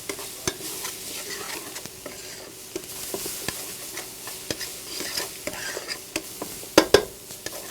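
Fresh herbs sauté in a pan while pork tenderloin cooks, giving a steady low sizzle broken by repeated stirring taps and scrapes. Two sharper clinks of utensil on pan come near the end.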